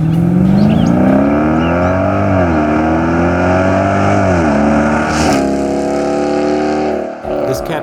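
A 2011-2020 Dodge Durango 5.7-liter V8 fitted with a catback exhaust, X-pipe and 4-inch tips revs up and down in several loud, close sweeps, then settles to a steady idle before cutting off.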